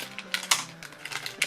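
Scissors cut open a Littlest Pet Shop toy surprise pack that has no tear strip, giving a quick series of sharp, close snips and crinkles with no voices.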